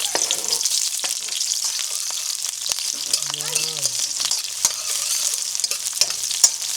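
Onion sizzling as it fries in cooking oil in a pan for Filipino bistek, a steady close crackle with occasional stirring scrapes and a brief voice partway through.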